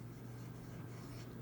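A pen scratches across paper while an accounting income statement is written out, faint soft strokes over a low steady background hum.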